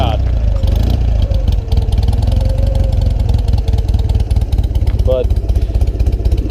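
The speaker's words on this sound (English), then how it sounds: "the motor sounds pretty good" A vintage BMW motorcycle engine idles after a kick start, a steady close throbbing putter that runs throughout with brief mechanical squeaks, while someone speaks briefly over it.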